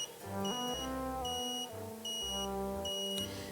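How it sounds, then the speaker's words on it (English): An electronic device emits a series of tonal beeps, several steady pitched tones in sequence, clear and close with no one speaking. "Now when I touch the 2 buttons here, it beeps."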